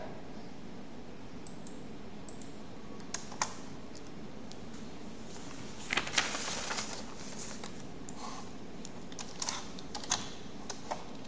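Code is typed on a computer keyboard, a quiet, irregular patter of key clicks with a few louder bursts of fast keystrokes and no talking.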